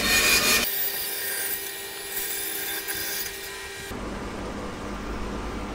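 A saw with a freshly sharpened blade cuts through the end of a green elm log, giving a steady, close, rasping grind for several seconds before the tone shifts to a quieter hiss.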